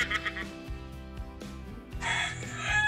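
A chicken in a video game gives several short clucks over game sounds and music, while a person talks over them.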